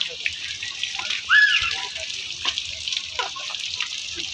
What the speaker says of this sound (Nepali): कोही कोही धारामा चाहिँ पानी झर्दैछ